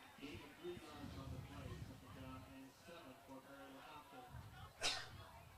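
A short sneeze bursts out near the end, loud and close, following muffled talk at a high school varsity football game broadcast.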